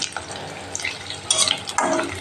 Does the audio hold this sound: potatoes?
yes